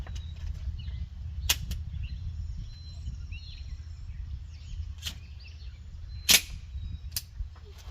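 A Thureon Defense 10mm carbine fires PMC Bronze rounds at a range, giving three sharp, separate shots around 1.5, 5 and 6.3 seconds over a steady low rumble of wind or background noise.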